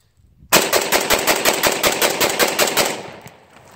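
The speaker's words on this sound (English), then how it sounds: "Chris, can you shoot that faster?" A rifle fitted with an EOTech holographic sight fires a fast string of about a dozen shots at a 5-yard target, loud and close, each crack evenly spaced before the last echo fades into quiet.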